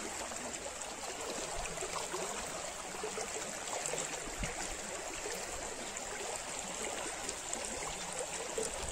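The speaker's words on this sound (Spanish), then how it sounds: "Muy bonito el ruido del agua." A small stream flows steadily close by, its continuous rushing and trickling water filling the whole stretch with no voices.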